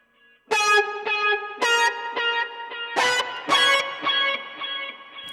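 Electric guitar run through a Line 6 POD HD Pro synth patch with Octaver and Facial Fuzz, a thick buzzy tone picking a rhythmic run of notes, loud and close with no talking.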